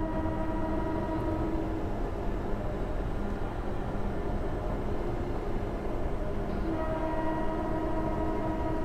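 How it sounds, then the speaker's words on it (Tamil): A MEMU train horn in the game Train Simulator (RailWorks) sounds in long sustained blasts over a steady rumble of rolling rail noise, with a brief break before the horn resumes. "மெமு பொறுத்தளவுக்கு ஹார்ன் சவுண்ட் அந்தளவுக்கு பெருசாக கேட்காது ப்ரோ"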